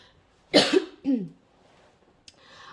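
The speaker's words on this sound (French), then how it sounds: "pardon, je vais tousser" Two harsh coughs close together, near and loud, followed by a faint click in otherwise quiet surroundings.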